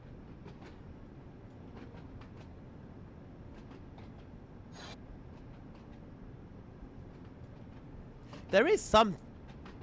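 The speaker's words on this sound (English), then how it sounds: "just hearing the clickety clackety and just going past various stocks and wagons and hoppers" Train wheels clickety-clack at low speed through sidings past wagons and hoppers in Train Sim World 4, a steady rumble with faint rhythmic clicks, while a person talks over it briefly near the end.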